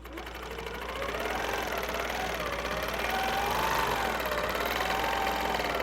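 A sewing machine tacks down fabric around a circular quilting template, its motor humming steadily with a soft rapid stitching patter that swells slightly and holds, close up with no speech.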